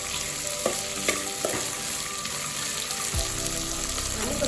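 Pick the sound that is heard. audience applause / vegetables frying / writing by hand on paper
vegetables frying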